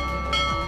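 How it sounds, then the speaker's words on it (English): A single bell struck in the video game Bonelab rings out with a clear metallic tone and a sustained shimmering decay, brief and fairly close, with no talking. "I'm ringing a bell."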